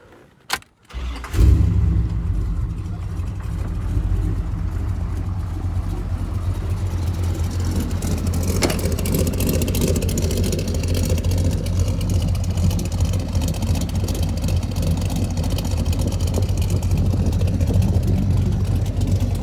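A 385 stroker V8 in a 1992 Chevy C1500 truck with X-pipe exhaust starts with a sharp crank, then settles into a steady, rumbling idle with a lopey cam throb that carries on loud and close.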